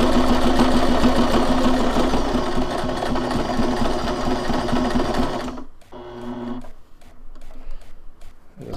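A domestic sewing machine stitches a zipper pouch, running in a fast, steady buzzing whir for several seconds, then stopping and giving a few short bursts of stitching and mechanical clicks.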